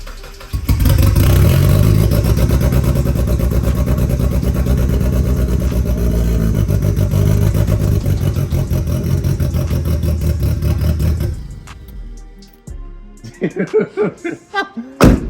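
A turbocharged Mazda Miata engine runs loud and rough after its first start, a deep steady drone with uneven pulsing, then drops away; people talk and laugh near the end.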